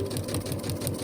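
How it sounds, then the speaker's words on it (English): Sewing machine stitching straight through a quarter-inch quilting seam allowance during foundation paper piecing, a fast steady mechanical whir with rapid needle chatter, close and moderately quiet. "I sew straight through the 1/4 inch seam allowance."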